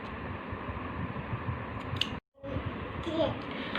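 Scissors snip loose threads off a handmade paper rakhi, a brief close cut amid steady room noise, with a short silent gap before handling resumes.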